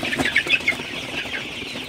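Sonali super hybrid chickens, 37 days old, cluck and chatter on a poultry farm, with short overlapping calls and a brief rustle of movement close by.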